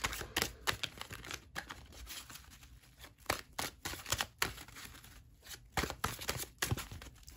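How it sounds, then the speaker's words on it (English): Tarot cards are shuffled by hand in quick, crisp bursts of riffling and tapping, close up and fairly quiet, with brief pauses between passes and no talking. "All right, cards are shuffled."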